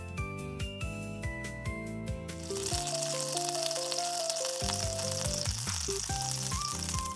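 Pork sizzles on a hot pan at a Korean barbecue restaurant in Seoul, a continuous frying hiss running beneath loud background music.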